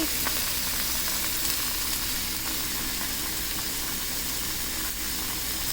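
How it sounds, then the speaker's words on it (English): BBQ pork chops frying on a stovetop, a dense steady sizzle and hiss of hot fat that runs unbroken and fairly loud throughout, close up, with no talking. "Let this fry."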